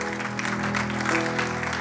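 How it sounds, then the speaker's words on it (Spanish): A church congregation bursts into strong applause for the Lord during a Spanish-language sermon, dense and steady clapping filling the whole room throughout. "Dale ese aplauso fuerte al Señor"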